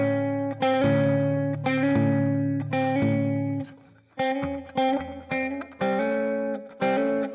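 Distorted electric guitar riff built on a hammer-on from minor to major third, repeated phrases of sustained chords with short gaps, played alone and close.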